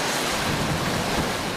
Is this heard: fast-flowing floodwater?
yes